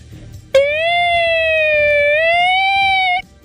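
A man imitates a Red Cross ambulance siren from Santa Bárbara with his voice, holding one loud, steady, bright wail for nearly three seconds with a slight rise near the end, then stopping abruptly over quiet background murmur.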